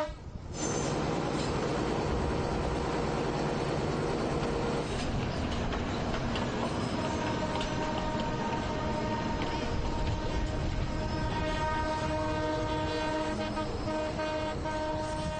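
A train in Ecuador pulled by a French-made locomotive rumbles along steadily while its horn toots in long, sustained blasts, loud and close with no talking.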